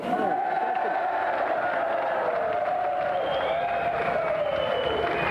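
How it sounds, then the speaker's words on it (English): A game show studio audience breaks into loud, sustained applause mixed with cheers and whoops during a prize presentation, filling the whole stretch. "And another round of applause for Pat and Emily Cash."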